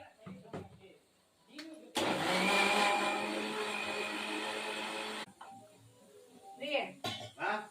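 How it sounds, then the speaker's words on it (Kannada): Brief talk, then a mixer grinder roars loudly for about three seconds and stops abruptly, with voices resuming afterward. "ಒಂದೆರಡು ರೌಂಡ್ ಮಿಕ್ಸಿಗೆ ಹಾಕ್ಕೊಂಡು ಕೇಳ್ತಾ ಇದ್ದೀನಿ ಸಾಕಾ ಇನ್ನೊಂದು ಸ್ವಲ್ಪ ಮಿಕ್ಸಿಗೆ ಹಾಕಬೇಕಾ"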